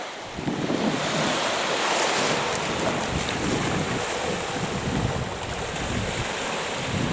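Waves washing onto a shallow sandy beach with strong wind buffeting the microphone, a continuous loud roar of surf and gusts throughout, no speech.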